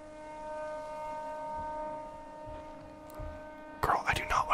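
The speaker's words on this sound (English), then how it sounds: "Okay, I hear the siren now." A steady, droning siren holds a sustained tone throughout, with faint whispering and rustling beneath and a burst of louder noise near the end.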